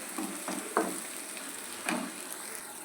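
Soft, fairly quiet sizzling of browned onion and beaten eggs frying in a pan, with a few light scraping stirs punctuating the steady crackle.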